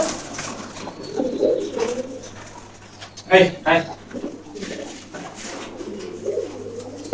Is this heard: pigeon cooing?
yes